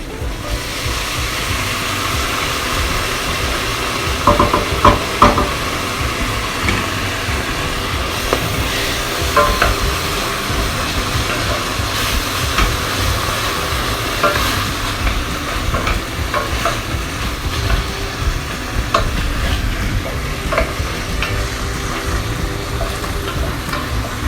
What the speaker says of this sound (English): I'm gonna add the tuna chunks now.